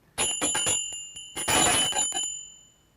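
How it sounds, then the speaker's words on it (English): A bell rings out in several quick strikes, bright metallic tones overlapping, then a louder cluster of rings whose shimmering resonance lingers and slowly fades away. "It is like the ringing of the bell"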